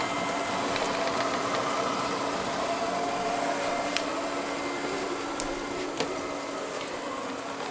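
An Ecovacs Deebot M81Pro robot vacuum cleaner whirs steadily and continuously at close range, with a few faint clicks and bumps along the way.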